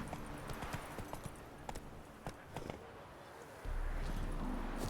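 Hooves of a horse clip-clopping in The Witcher 3, a steady rhythmic trot of moderate loudness with someone talking over parts of it.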